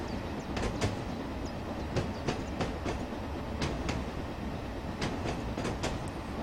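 A BR Class 9F steam locomotive on the Somerset and Dorset line in Train Simulator 2015 rolls steadily along, with a continuous rumble and sharp rhythmic rail-joint clicks, and no talk.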